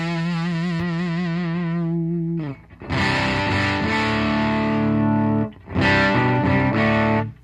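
A Les Paul guitar runs through an Amptweaker TightFuzz Pro with the fuzz turned all the way up. A sustained, buzzing fuzzed note is followed by thick, heavily distorted chords that briefly cut out and then ring again.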